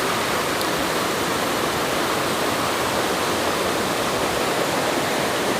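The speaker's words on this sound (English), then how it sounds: "K-L-A-N-G waterfall in Chiang Mai" Mae Klang waterfall in Chiang Mai, Thailand, fed by cold mountain spring water, roars as a steady, dense broadband rush close by, with no voices over it.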